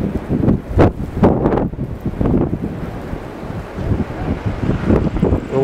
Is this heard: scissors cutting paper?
no